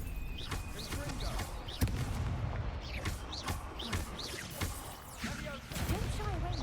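A Confringo blasting spell goes off in Hogwarts Legacy. Sharp explosive impacts come amid a busy battle of other spell effects, and a voice shouts over them.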